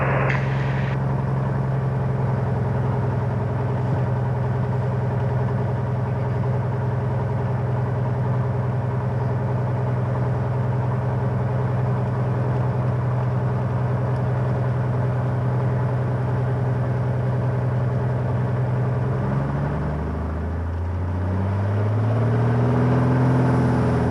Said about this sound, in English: Engine full power, oil pressure good, airspeed is alive.